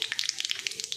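Mustard seeds crackling and popping in hot oil for tempering coconut chutney, a dense run of sharp little pops close by, with no talk over them.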